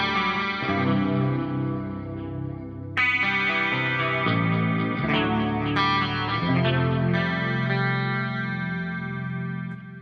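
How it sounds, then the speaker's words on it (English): A clean electric guitar plays a series of chords through an amp's clean channel, each strummed and left to ring, with a light chorus-like shimmer and no distortion. "here's this guitar through the clean channel of the amp"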